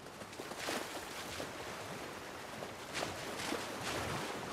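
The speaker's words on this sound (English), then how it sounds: "More waterfalls!" Rushing waterfall in The Last of Us Part I game, a steady broadband roar of falling water with surging swells, fairly loud and continuous throughout.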